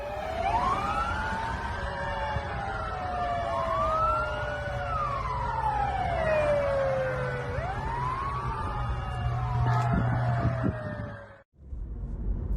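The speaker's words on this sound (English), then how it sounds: "as soon as they hear sirens, drivers quickly create a clear path to help responders reach those in need in time." Several emergency vehicle sirens wail and sweep up and down together amid road traffic in Slovenia, loud and continuous for about eleven seconds before cutting off abruptly.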